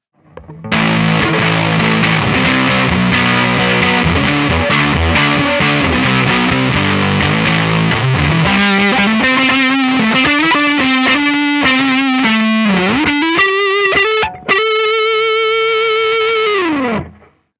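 A DIY Madbean Runt distortion pedal with gain at 3 o'clock gives an electric guitar a thick, saturated tone, with sustained riffing giving way to a bent, singing lead line and a final held note.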